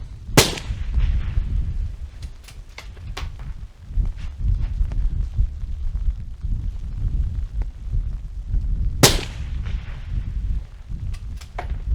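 Two sharp rifle reports crack out, one near the start and one about nine seconds later, each from a precision rifle firing at a long-range target during a team match, with low rumbling and faint clicks between shots.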